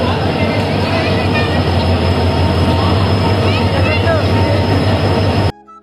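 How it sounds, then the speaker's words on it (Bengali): Train pulling into a station with a steady loud rumble and occasional squeals, crowd voices mixing in, before cutting off abruptly at the end. "ট্রেনটা পৌঁছালো"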